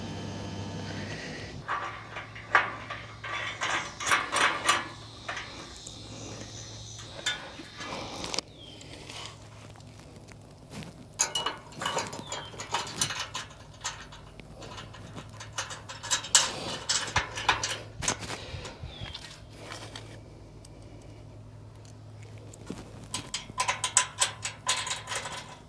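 A bolt with a washer and lock washer is tightened by hand on a Rivian R1S running board, giving soft, intermittent metallic clicks and rattles nearby at low volume.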